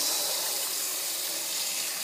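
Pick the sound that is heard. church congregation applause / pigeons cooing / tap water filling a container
tap water filling a container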